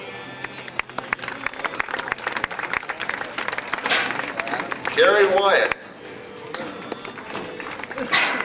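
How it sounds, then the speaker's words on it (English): An audience at an academic awards ceremony claps for recipients as names are called, with scattered sharp claps and a fuller burst of applause under a voice announcing over a public address system. "A special round of applause, ladies and gentlemen."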